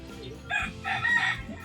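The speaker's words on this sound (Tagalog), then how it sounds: "may manok pa." A rooster crows once, a hoarse, uneven call rising in the middle, heard from a short distance over quiet background.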